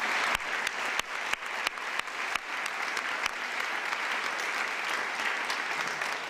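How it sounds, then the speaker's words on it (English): An audience at a SkillWorks workforce event claps for two young women. Separate sharp claps open the stretch, then merge into steady, moderately loud applause that carries on alone. "let's give those two young ladies another round of applause"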